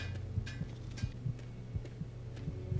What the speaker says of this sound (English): you'll be cursed to hear that thudding from the heartbeat